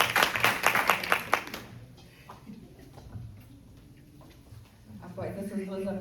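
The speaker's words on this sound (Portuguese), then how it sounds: "Palmas para a Lili mais uma vez." Audience applause for someone speaker at a talk on voice, a burst of clapping for about two seconds that fades into room murmur and voices.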